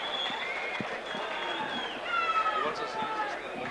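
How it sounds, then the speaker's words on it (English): Crowd applause and cheering for boxer Stevie Carter at a boxing event, a continuous noisy roar of clapping and voices with a loud announcer speaking over it. "I'll give Stevie Carter a big round of applause there."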